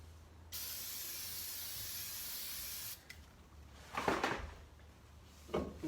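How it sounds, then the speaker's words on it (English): Brake cleaner sprayed onto a brake rotor during a brake job on a 2014 Hyundai Elantra in a garage: one long, steady aerosol hiss of about two and a half seconds, followed by a few brief handling clunks and rustles. "I'm just going to use some brake cleaner to clean it up"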